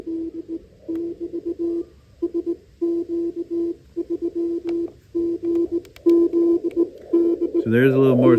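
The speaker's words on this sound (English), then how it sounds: "So there's a little Morse code." Morse code tones from a Radioddity MLite-880 shortwave radio, a steady pitched beep keyed in short and long bursts with brief gaps, fairly close and clear, ending in a warbling burst of signal.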